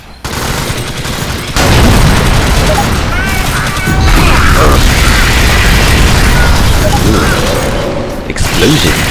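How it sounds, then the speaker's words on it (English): Loud explosions and rapid gunfire fill a battle in the Alien Swarm video game, heavy booms and mechanical clatter running continuously with a short drop near the start, while players talk over the action. "Explosions! Pretty explosions!"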